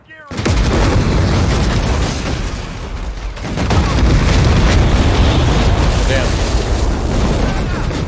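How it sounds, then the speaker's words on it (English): Barrels exploding in a combat video game, with a sudden loud blast followed by sustained booming and crackling debris that fills the whole stretch, swelling again midway, while a man mutters briefly. "Barrels exploding."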